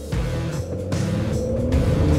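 A Sprinter van accelerating hard up a hill with the pedal held to the floor, a loud, steady engine drone and road rumble inside the cab, the pitch climbing gradually with no one talking.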